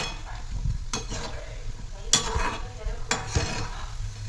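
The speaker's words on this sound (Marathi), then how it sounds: "इथं आता मी गुलाबजामून तळायला घेतलेले" Gulab jamun frying in oil on a low flame, a soft bubbling sizzle with intermittent stirring and a few clinks of a spoon against the pan.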